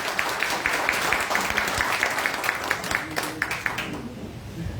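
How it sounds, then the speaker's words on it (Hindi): An audience at an RCM team seminar gives loud, sustained applause for an invited speaker. Dense clapping runs continuously, with some sharper rhythmic claps, then eases slightly near the end. "जोरदार तालियां"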